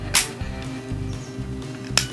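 A toy cap gun's trigger is pulled with no cap loaded, giving two light, sharp mechanical snaps about two seconds apart over a steady low hum.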